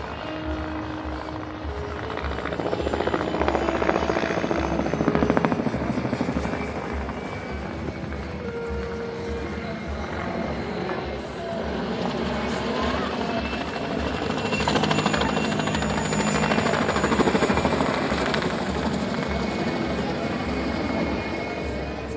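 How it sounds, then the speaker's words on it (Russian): A helicopter flies aerobatic figures at a city-day air show in Samara, its rotor droning steadily from a distance and swelling and fading as it maneuvers over a long stretch of open-air noise. "Тот же самый вертолет."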